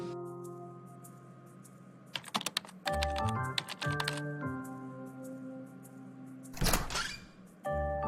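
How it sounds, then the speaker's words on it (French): Keys clatter on a computer keyboard in irregular bursts, close and fairly quiet, alongside a dull thunk and a low sustained musical backing. "Il est concentré à frapper sur le clavier de sa machine."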